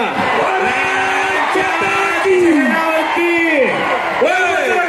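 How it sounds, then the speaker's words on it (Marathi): A dense crowd at an outdoor village wrestling bout yells and whoops loudly and continuously, with rising shouts and excited calls layered over the roar. "जोशाने जल्लोष चालू झालेला आप्पासाहेबांच्या"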